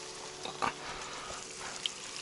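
Lake water poured into a pan of spiced meat at an island campsite gives a steady, moderately quiet hissing sizzle, with a couple of brief louder spurts.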